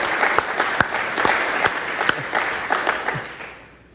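Audience applause at a Microsoft tech presentation on language and speech services, a loud burst of many hands clapping with a few sharp close claps, tapering off toward the end.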